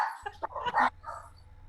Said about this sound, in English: it all sounds like barking to me